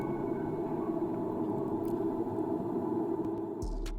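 A music sample colored by the RC20 Retro Color plugin, giving a dense, washed-out lo-fi texture with steady hiss and a warm, muffled body that holds level throughout, with a low thump near the end.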